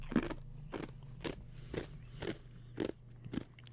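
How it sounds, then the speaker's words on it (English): An ice cube being chewed: seven distinct sharp crunches spaced roughly half a second apart, close to the mouth and fairly quiet, with no talking in between. "I'm chewing an ice cube"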